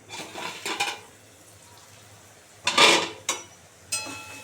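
A metal lid clatters off a pan of vegetables simmering in oil and water over low gas, with a few short scraping clinks early on and then a louder rattle and two brief knocks near the end.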